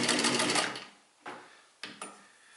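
A SINGER 15-91 home sewing machine stitching leather makes a loud burst of rapid mechanical clatter that fades out. Two short, sharp knocks follow at close range.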